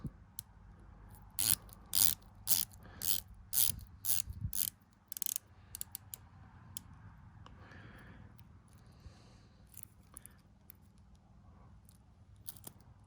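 A Phoibos Eagle Ray dive watch's 120-click unidirectional bezel is turned in several quick bursts of crisp, close ratcheting clicks during the first five seconds, followed by quieter scattered ticks and handling noise.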